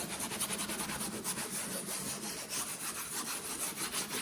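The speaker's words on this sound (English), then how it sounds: "let's give this a little scrub." A scrubber works over a grubby table top, giving a steady, quiet rhythmic rasping back-and-forth rub close up with no talk.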